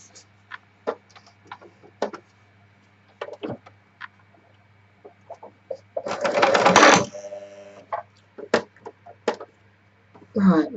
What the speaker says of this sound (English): And then we're going to machine sew that.